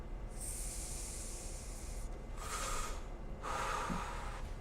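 A person draws several quiet, breathy inhalations of vapor from an e-cigarette, each a soft airy hiss with pauses between, close and faint with no talking.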